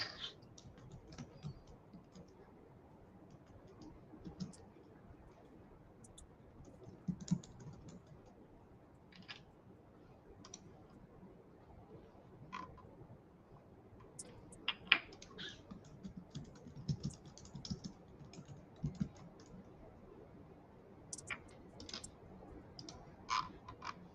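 Computer keyboard typing runs steadily throughout, with scattered louder key clicks over a faint low background hum, close and alone without speech.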